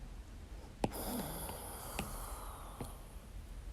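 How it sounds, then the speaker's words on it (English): Soft, rhythmic snoring from a small animal close by, a few raspy snorting breaths over a quiet hiss, no talking. "She's like snoring aggressively in my lap."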